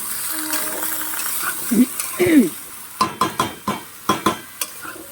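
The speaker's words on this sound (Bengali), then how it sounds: "এবার সিমটাকে ভালো করে নাড়তে হবে" Flat beans (shim) stirred in a frying pan for a shim and prawn chachchari, a steady sizzle under a run of quick, rhythmic spatula scrapes and clinks against the pan, close and fairly loud.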